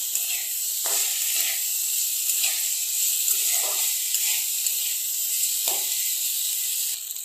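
Potatoes for an aloo curry fry in a pan with a steady, bright sizzle, broken every second or so by the scrape of stirring. The sizzle is close and continuous.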